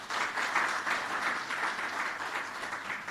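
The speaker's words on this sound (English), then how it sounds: "if you just give them a round of applause," A hall audience at a government presentation on public sector transformation gives a sustained round of applause, steady many-handed clapping at an even moderate level, heard alone without speech.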